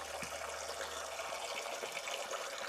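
Water from a well pours and splashes steadily in a continuous rushing stream, close and even, with no voices.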